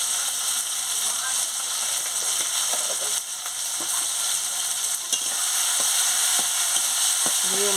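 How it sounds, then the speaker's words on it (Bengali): Masala is stirred and fried in a pan with a steady, loud sizzle and hiss running the whole time, broken by occasional scraping taps of the spoon against the pan. "দিয়ে মশলাটাকে ভালো করে কষিয়ে নিচ্ছি"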